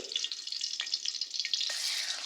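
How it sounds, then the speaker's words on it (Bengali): Jatka fish frying lightly in oil in a wok gives a steady, close sizzle with soft crackling pops scattered throughout, alone without any talk. "এখানে আমি কড়াইতে তেল দিয়ে দিলাম, মাছটা হালকা ভাজা দিব, বেশি ভাজবো না"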